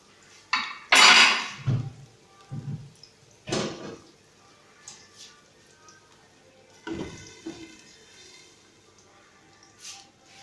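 A lid goes onto a pan of frying homemade potato fries: a sharp metallic clatter, then several softer knocks and clinks of cookware scattered over a quiet background, close by.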